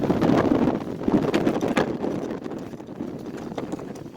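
Gusts of wind buffet a microphone outdoors, giving loud, uneven low rumbling bursts that swell and fade over a few seconds with no talking.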